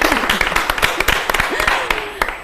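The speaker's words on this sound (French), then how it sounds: "On peut quand même s'applaudir, hein," An audience at a women's day celebration applauds itself, with sharp, sparse individual claps scattered through the moment, close by, under a lively background of voices.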